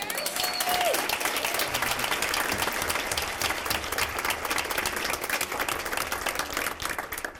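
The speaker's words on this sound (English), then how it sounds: "Can we get another round of applause for all of our speakers?" A youth event audience gives a round of applause to its speakers, sustained dense clapping filling the whole stretch at an even level with a crowd murmur beneath.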